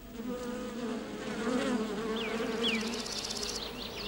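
A colony of paper wasps (Polistes), males and females mingling, makes a dense, close, steady buzzing hum, with a few faint high chirps near the end.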